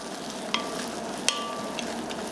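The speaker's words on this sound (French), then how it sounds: "Je vais faire revenir mes carottes, mes oignons, pour les faire confire un peu" Carrots and onions softening in a pan for a bisque, a quiet, steady sizzle close by, with a few sharp ticks and pops scattered over it and no voices.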